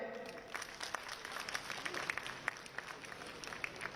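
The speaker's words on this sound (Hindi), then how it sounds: "तालियां बजाएं।" Steady applause from a book launch audience at Delhi University, many hands clapping at a moderate level throughout, with no voices on top.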